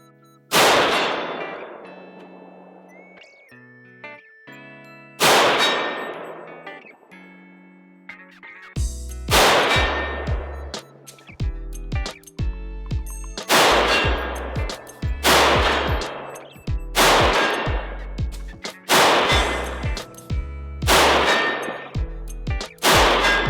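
Rifle shots ring out at a shooting range, with loud sharp cracks and long echoing tails, first spaced apart and then coming in a faster, steady string, each one close and powerful.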